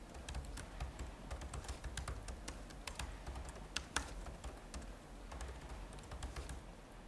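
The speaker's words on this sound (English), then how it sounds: "I'm typing everything manually here." Steady clicking of keys on a computer keyboard, quick irregular taps close to the mic, with a few louder keystrokes and no talking.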